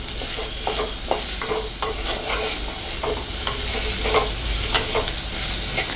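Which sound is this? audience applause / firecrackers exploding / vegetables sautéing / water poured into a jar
vegetables sautéing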